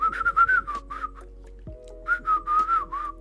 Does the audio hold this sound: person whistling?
yes